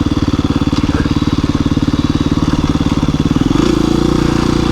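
A KTM 350 EXC dirt bike engine while riding: a loud, close, rapidly pulsing engine thrum that shifts to a smoother, higher tone near the end, with no talk.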